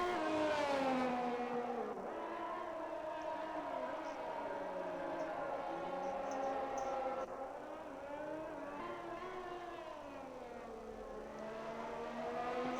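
Racing cars in a racing video game at Portimao drone down the straight, their high engine notes sweeping up and down through gear changes, loud and continuous with overlapping cars.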